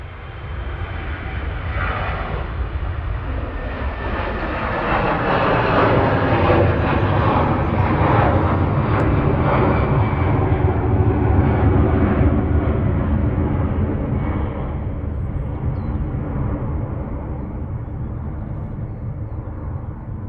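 An Etihad Airbus A350-1000 jet departs Manchester Airport with a loud, sustained engine roar that swells toward the middle and then slowly eases, broadband and steady throughout with no voices.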